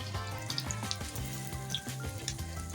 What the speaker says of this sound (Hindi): 1 मिनट हो चुका है प्याज को फ्राई करते हुए